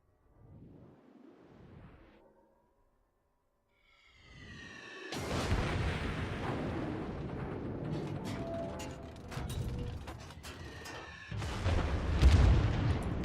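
Heavy naval gunfire from the cruiser Pensacola shooting at the battleship Kongo in World of Warships: a quiet lead-in, then loud, booming salvos rolling into a sustained roar of shots and impacts that swells again near the end.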